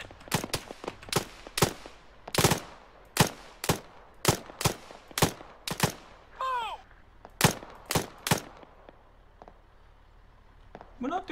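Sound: gunfire in video game ARMA 3

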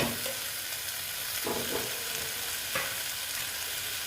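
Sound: frying eggs with capsicum in a pan

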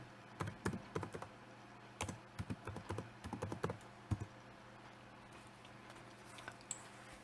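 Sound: typing a password on a keyboard

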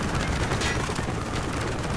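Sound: machine gun fire in Call of Duty: Black Ops video game

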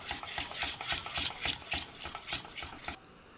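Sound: stirring tiramisu cream after adding vanilla

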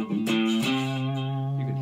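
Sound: electric guitar distortion

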